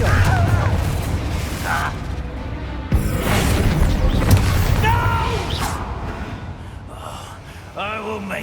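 A Confringo fire spell bursts in Hogwarts Legacy, a loud booming blast with crashing debris and whooshes amid battle noise, while voices and gasps sound throughout.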